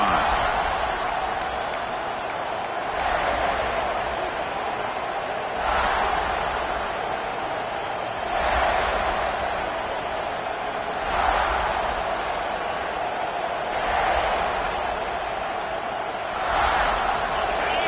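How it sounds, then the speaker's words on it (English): A large stadium crowd roars steadily at an Oklahoma State versus South Carolina football game, swelling in repeated waves, with a commentator talking over it. "Listen to the crowd energy here in the early going."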